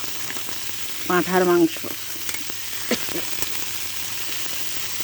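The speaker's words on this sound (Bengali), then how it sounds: "এই চারকাঁদা মাছ ভেজে নিচ্ছি" Charkanda fish fries in hot oil in a pan with a steady, close sizzle and hiss, and a voice briefly speaks over it early on.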